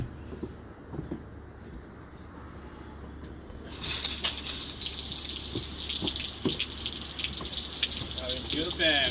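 Water is turned on to cool a 1975 Mercury 850 outboard motor for a test run. After a quiet start, a steady gushing flow begins midway and keeps running close by.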